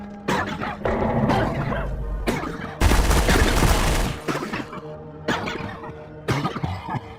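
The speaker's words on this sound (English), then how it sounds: "each time they do, a coughing sound is emitted from their player model" Many player characters in the video game Garry's Mod cough over and over, a loud, overlapping barrage of harsh coughs in irregular bursts with brief gaps between them.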